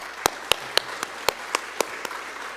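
Sparse, separate hand claps from a small group welcoming the performers at an acoustic jam session, about nine sharp claps spaced across a few seconds over a quiet room.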